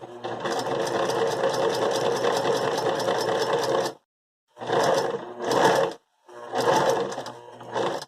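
A sewing machine stitching fabric runs in fast, steady mechanical bursts, one long run of about four seconds followed by several shorter runs with brief pauses, close and loud, with no talking.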